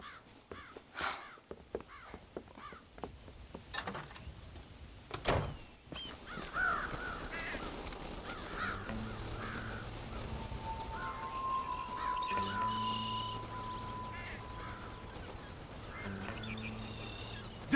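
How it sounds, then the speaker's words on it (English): Crows caw repeatedly in the Red Dead Redemption video game on PS5, harsh calls rising over a farm field ambience with muffled in-game sounds at the start. "God damn crows!"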